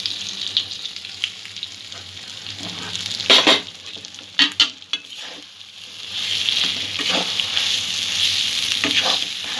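Chana dal and grated coconut frying in ghee give a steady close sizzle, broken by a few sharp scraping stirs of a spatula midway and then a continued crackling fry.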